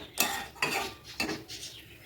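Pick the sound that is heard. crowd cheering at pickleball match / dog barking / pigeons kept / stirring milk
stirring milk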